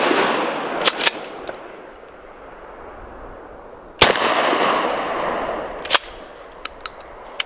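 A 20 gauge pump shotgun fires Federal #3 buckshot and Sellier & Bellot #2 buckshot outdoors: three or four sharp, loud blasts with echoing tails, plus a few faint clicks from the action.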